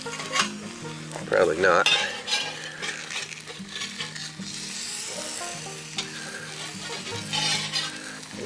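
Eggs fry on a Blacklock cast iron griddle over a campfire, with a constant crackling sizzle and metal spatula scrapes as they slide around, plus a brief spoken remark near the start.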